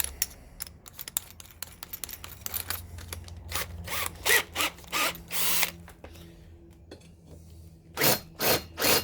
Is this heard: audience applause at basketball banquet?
no